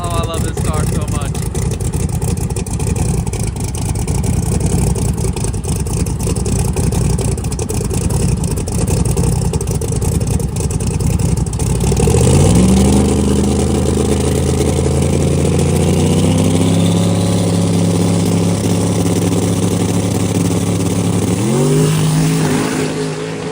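A 5,000 hp Camaro drag car nicknamed Eagle, on small 275 drag radial tires, drones loudly at high revs before launching into a roaring, rising pass with stepped gear changes, while people talk and shout over it.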